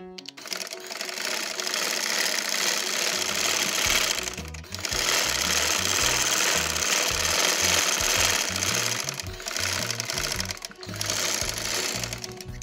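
A sewing machine runs loud and close, double-stitching fabric on a dhoti salwar in long continuous runs, with two brief pauses between bursts of rapid, even stitching.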